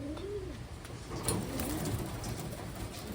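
Pigeons coo softly among Taiwan birds, several low rolling coos rising and falling over a steady background hiss, fairly close and unaccompanied by talk.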